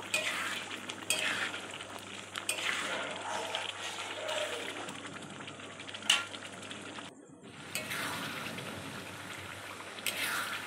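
Spiced ghugni masala with dried red chillies being stirred and sautéed in a pan, a continuous close sizzle with spatula scrapes and knocks throughout, briefly pausing near the middle before resuming.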